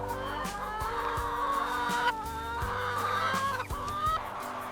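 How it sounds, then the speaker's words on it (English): Chickens cluck and call under low light during collection, several birds close by, with repeated clucks and squawks over a steady mechanical hum. "Low light keeps the birds calm during the collection process."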